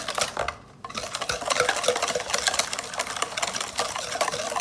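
Banana bread batter being stirred by hand in a bowl, a steady run of close, scraping and wet folding strokes with a brief pause near the start, no voices.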